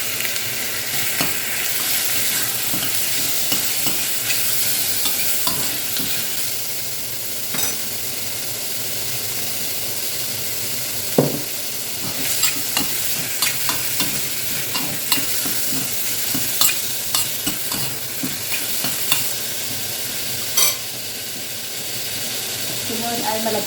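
Chicken pieces sizzle and fry in a pan for Filipino arroz caldo with ginger, with steady hiss and repeated scraping stirs and clinks of a utensil, close and continuous throughout.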